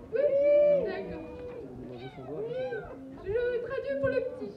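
A small cat meowing on a city street in Brest during an outdoor summer event, several drawn-out rising and falling meows mixed with people talking close by.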